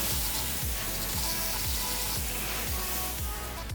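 Water sprays in a steady, close hiss as it rinses the wheel and tire of a C7 Corvette during cleaning, continuous and even for the whole stretch.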